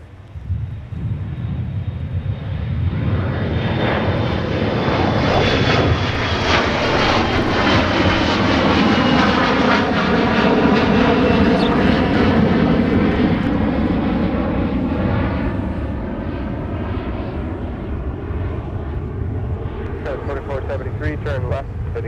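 An Airbus A330-200 jet airliner takes off from runway 30 right at Minneapolis–St. Paul airport, a loud sustained engine roar with a rising whine, heard beneath continuous radio chatter between the tower and pilots.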